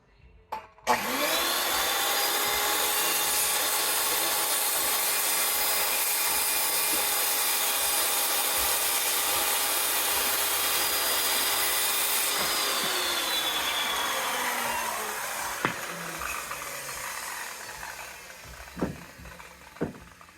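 Hand saw cutting pieces off a wooden build for a shopping cart steering wheel, one long continuous rasping stroke sequence close by, loud and steady for about fourteen seconds, then tapering off into a few knocks and clatters.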